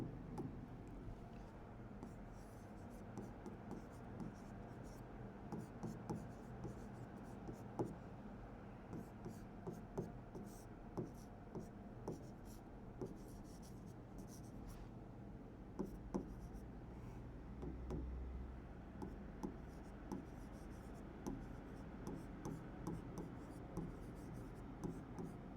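A pen scratches across paper in short bursts while a math problem is written out. The strokes are quiet and close, with pauses between them.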